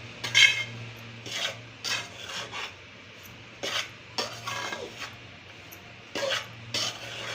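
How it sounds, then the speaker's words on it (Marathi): Ragi flour is roasted in a little ghee and stirred with a spatula, giving about eight separate rasping scrapes against the pan at an uneven pace over a faint low background, with no voices. "चांगलं खरपूस भाजून घ्यायचं पीठ"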